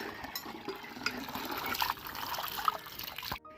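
Water runs from a faucet at a village home, a soft steady trickle close by that drips and splashes faintly, with no talking.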